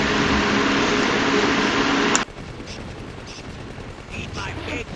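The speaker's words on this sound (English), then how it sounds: "We got all kind of explosions and stuff, like, blowing up all over the place." Dense, loud gunfire and explosions from the Contra video game roar continuously for about two seconds, then cut off abruptly, leaving quieter scattered game effects.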